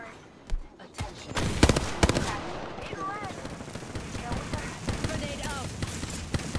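Gunfire in the Apex Legends battle royale game, a string of sharp shots and bursts over a busy combat mix, with in-game voice callouts heard throughout.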